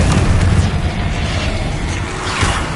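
Incendio fire spell cast in a Harry Potter video game, a loud, continuous rumbling fiery blast with deep booming low end that sustains throughout, swelling again near the end.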